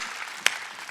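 A church congregation claps during a Wednesday worship service, a brief steady wash of many hands with one sharp, close clap standing out in the middle.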